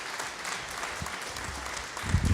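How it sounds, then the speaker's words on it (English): Steady applause from the audience at a town meeting on a school project, moderately loud and continuous across the whole span, with a slight swell at the end. "Can we give them a big round of applause?"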